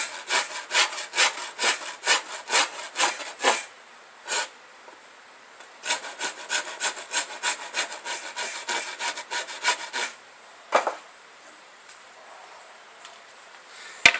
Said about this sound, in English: I'm not going to sit here and sand this whole handle out in front of you